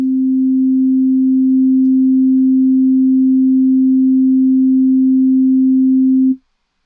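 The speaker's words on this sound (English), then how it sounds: "Let's give a listen to a sine wave." A pure, steady synthesized sine wave tone hums at one low-mid pitch for about six seconds, then cuts off abruptly into silence.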